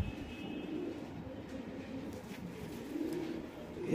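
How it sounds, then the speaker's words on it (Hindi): Soft, low Lalchina pigeon cooing repeats steadily through the clip, with faint background rustle and no talking. "ये देखिए, लालचीना कबूतर है"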